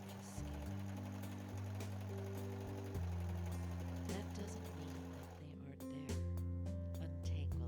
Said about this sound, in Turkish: Şimdi kenarlara overlock çekiyorum.